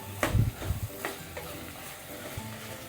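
Chopped onions are stirred and sautéed in a hot pan, giving several scraping spoon knocks early on over a soft continuous sizzle that fades quieter toward the end.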